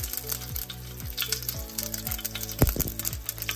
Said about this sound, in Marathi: तर त्याच्याला बारीक चिरलेला कांदा 1 कमी परतून घेतो